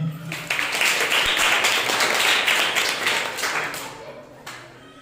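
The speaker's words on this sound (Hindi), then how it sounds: "आइए हम लोग परमेश्वर के लिए जोरदार तालियां।" A church congregation at a Sunday morning service claps loudly and continuously for several seconds, a dense wash of applause that tapers off near the end.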